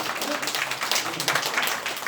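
A church hall audience claps continuously before singing Arirang, a steady patter of many hands, with faint voices underneath.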